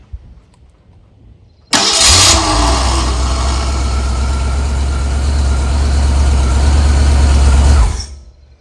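A 1964 Ford Galaxie with a 302 V8 cranks and catches abruptly, then runs at a steady, loud, rumbling idle for about six seconds before cutting off, with no talking.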